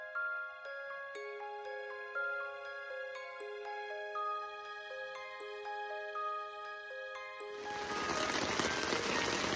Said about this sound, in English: Hear that rain.